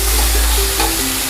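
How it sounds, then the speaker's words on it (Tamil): Ginger garlic paste sizzles loudly in hot oil for an egg gravy, a dense continuous fry with a few scraping stirs of the spoon and no talking. "இஞ்சி பூண்டு பேஸ்ட்டோட பச்சை வாசனை போகிற வரைக்கும் கொஞ்சம் நல்லா ஃப்ரை பண்ணி விட்டுக்கலாம்."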